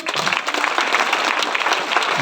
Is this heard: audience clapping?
yes